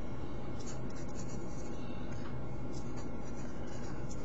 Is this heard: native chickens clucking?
no